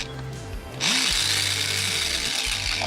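Power drill boring a hole in a Porsche 996 brake pedal, a close, loud bit whine that revs up and then grinds steadily through the metal for a couple of seconds, no talking.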